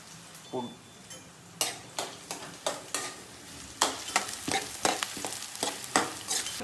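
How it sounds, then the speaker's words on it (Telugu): Onions and green chillies dropped into hot oil in a pan, a steady close sizzle punctuated by a rhythmic series of sharp spoon scrapes and stirring clatters. "ఉల్లిగడ్డలు పచ్చిమిరపకాయలు వేసేసిన"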